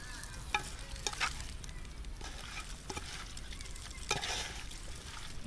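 Pepper chicken with curry leaves is stirred in a hot pan: faint, steady sizzling runs throughout, broken by several quiet, sharp scrapes of the spoon against the pan.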